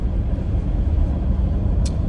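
A 1989 Jaguar XJS convertible with a V12 engine driving along, its smooth, steady low engine hum and road noise holding an even level throughout, with no talk.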